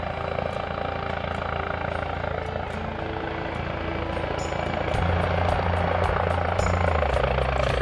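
Medevac helicopter landing at a flattened landing area, rotor and turbine roar filling the air loudly and steadily, with deeper rotor thumping swelling near the end.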